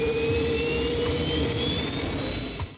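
A blender roars at high speed blending a frozen piña colada, a loud, steady whine that climbs slowly in pitch and resembles a jet engine, with no talking.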